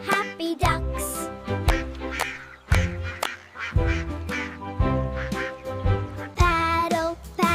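Cartoon ducks quack repeatedly in short bursts, fairly loud and close, with cheerful musical tones running underneath.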